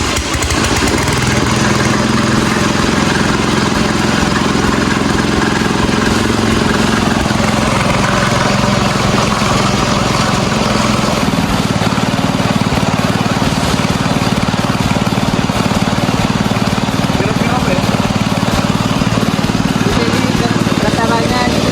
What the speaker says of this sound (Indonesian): Jadi saya akan mengecek getaran kompresor motor bakar